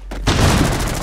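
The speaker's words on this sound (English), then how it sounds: "He's shooting here." Rapid automatic gunfire in a Rainbow Six Siege match, a sharp onset followed by a dense, loud sustained burst close by, with no talk over it.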